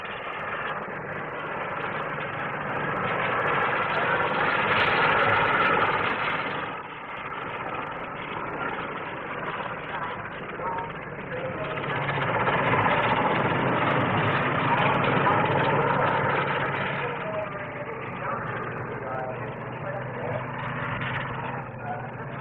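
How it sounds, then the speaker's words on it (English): Fairey Ultra-light Helicopter, its two-bladed rotor driven by pressure jets at the blade tips, at the 1957 SBAC Farnborough flying display: a steady, loud roaring engine drone that swells and fades twice as it passes, with no talk. "The fascinating Fairey ultralight helicopter with pressure jet units at the tips of the two-bladed rotor."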